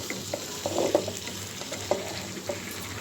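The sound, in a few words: stir-frying pigeon meat and potatoes with spices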